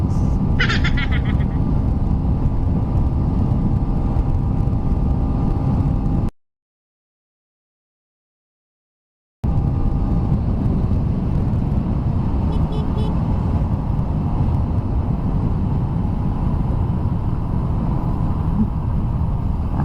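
A stock-engine motorcycle with a 14/38 sprocket runs at speed in fourth gear, a steady loud drone mixed with wind rush, broken by a brief cut to silence partway through.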